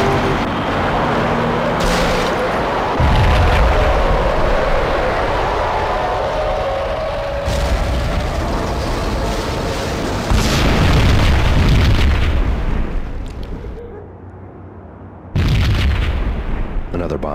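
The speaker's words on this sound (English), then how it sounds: "Another bomb exploded inside the closest slum building." Bomb explosions in the video game Max Payne, a slum-building blast during a hotel shootout and mob war: repeated deep, loud booms with rumbling low-end bursts around three, seven, ten and fifteen seconds, layered over continuous gunfire-like crackle and game ambience.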